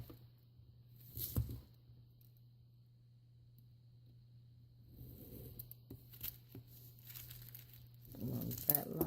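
Paper being cut with scissors while embellishing an envelope, quiet close snips and crinkles in a few short bursts against a steady low hum, without talk.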